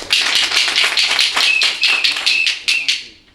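A small crowd at a lively ceremony claps in a brisk, close burst of irregular sharp hand claps that fades out over a few seconds.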